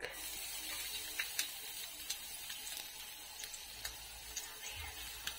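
Cooking oil sizzles steadily around a head of garlic in a pan, a soft continuous frying hiss dotted with small pops and crackles.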